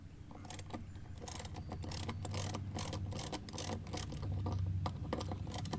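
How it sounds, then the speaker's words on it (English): A T40 Torx driver loosening latch bolts on a two-door Jeep JL tailgate, giving quick repeated ratcheting clicks and faint metallic rattling, close up and alone. "using a T40, we're going to loosen these bolts up on this latch"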